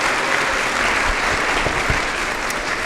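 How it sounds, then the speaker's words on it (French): Audience at a colloquium round table applauding: a loud, dense, steady wash of clapping from a full room that carries on throughout without pause. "On les applaudit encore."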